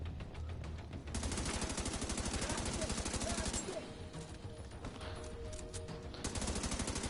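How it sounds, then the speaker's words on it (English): Sustained automatic machine gun fire in The Division 2, a rapid steady rhythm of shots running through most of the stretch with a brief lull, loud and close over game ambience. "Gonna have to finish him off with a machine gun"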